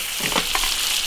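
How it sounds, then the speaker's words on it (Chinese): Seasonings with scallions and peppers fry in an iron wok, a loud, continuous sizzle with brief stirring scrapes, and no one talking. "把佐料煎香"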